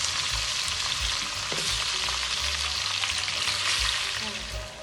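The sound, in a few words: chicken frying and being stirred in a pan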